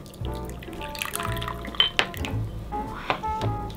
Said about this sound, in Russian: Наливаем чаек.